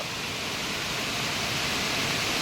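Water pours steadily over the Hulikal ghat falls near Masthikatte during the monsoon, a loud, unbroken roaring wash with no other sounds.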